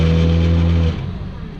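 A 30 hp inboard engine on a 1984 Camper & Nicholsons 35 ft sailboat revs in neutral, a steady loud low drone that cuts off abruptly just under a second in, leaving a rougher idle rumble.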